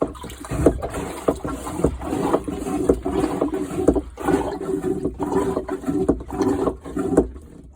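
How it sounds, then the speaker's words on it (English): A Jabsco marine sea toilet aboard a Cornish Shrimper 19 sailboat is pumped and flushed by hand, giving repeated rhythmic strokes of gurgling, sloshing water with clunks, close and fairly loud, with no talk. "when you're ready to flush, you switch it to the closed position"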